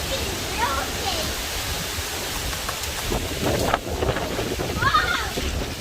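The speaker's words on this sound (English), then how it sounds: "It's really windy too." Strong wind from Hurricane Zeta in Pascagoula, Mississippi, a steady loud roaring rush with gusting surges throughout and brief faint voices in the background.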